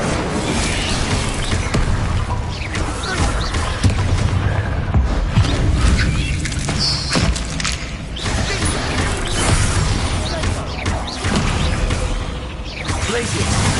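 Repeated magic spell blasts in Hogwarts Legacy, with booming explosions, whooshes and crackling impacts in constant succession, loud and dense, with a few voiced spell shouts mixed in.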